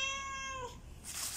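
A house cat gives one clear, drawn-out meow that slides downward and fades, followed by faint rustling and a hissy background noise.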